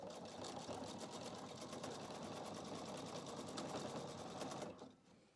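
A PFAFF QE 720 sewing machine stitches ribbon with a rapid, steady mechanical whirr and needle chatter at close range, then stops near the end.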